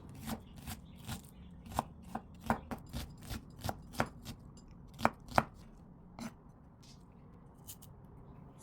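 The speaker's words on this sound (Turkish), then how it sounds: "soğanları yemeklik olarak küçük küçük doğruyorum" A knife chops onions into small pieces on a cutting board in quick, irregular taps, sharp and close, with pauses between bursts and no talking.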